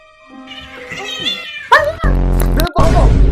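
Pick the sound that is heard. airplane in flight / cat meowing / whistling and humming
cat meowing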